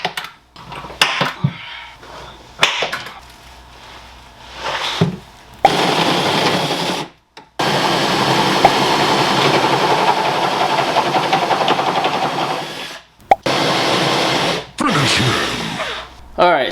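A power drill bores three holes into a console LED mount, a steady whirring run of several seconds broken by short bursts and pauses, fairly loud and close.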